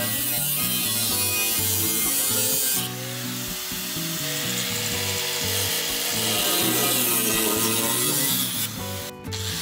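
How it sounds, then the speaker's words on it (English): A grinder cuts through stainless steel pipe with a loud, continuous grinding whine and shifting pitch, running close and steady from start to finish. "It's a stainless steel pipe, so I cut it with a grinder."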